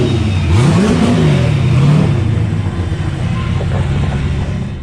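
A car just down off jack stands revs and pulls away, its engine note sweeping upward and then settling back into a steady, loud mid-pitched drone as it moves off.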